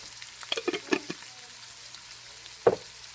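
Onions and garlic sautéing in a pan with meat for a macaroni and cheeseburger bake, a soft steady sizzle broken by a few sharp stirring clicks and scrapes.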